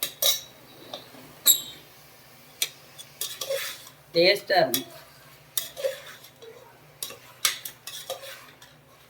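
Chicken tossed with turmeric and salt in a dry pan, a metal spoon scraping and clanking in bursts over a faint sizzle, with brief speech between strokes.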